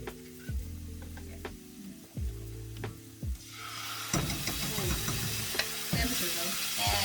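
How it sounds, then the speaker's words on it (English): Loud sizzling of ginger-garlic paste in a hot pan swells up partway through and keeps crackling, with stirring knocks along the way. "There's the sizzle. And sizzle."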